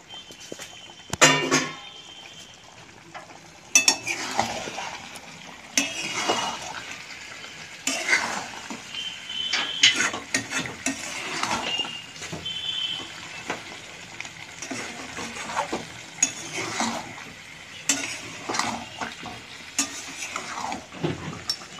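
Grated tomato goes into chicken in a pan and is stirred, giving irregular scraping strokes of a utensil against the pan and soft wet clatter, with a quiet sizzle underneath; close and moderately loud, no talk.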